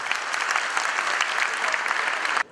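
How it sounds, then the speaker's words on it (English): A big round of applause from the audience at an AGM and installation event. Dense, steady clapping runs loud and sustained before stopping abruptly near the end. "This deserves a big round of applause."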